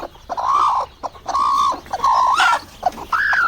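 A mother hen makes repeated drawn-out clucking calls close by, in short bursts with brief pauses between them, as her eggs hatch into chicks.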